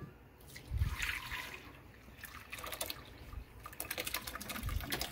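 Water strained off cooked acorn squash, a faint trickle and splash of liquid with a few soft clunks of the pot or strainer, quiet and close.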